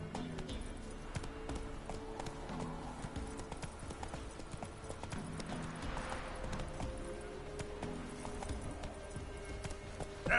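Roach, Geralt's horse in The Witcher 3, trots in a steady clip-clop of hooves over a continuous game soundscape, the rhythmic hoofbeats close and prominent throughout.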